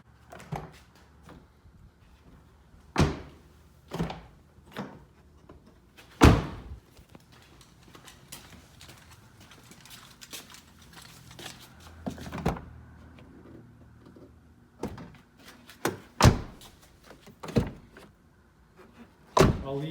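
A Lexus GX470 car door shuts with a sharp, solid thud, one of several loud, close impacts spaced across a quiet garage-like background of light handling noises.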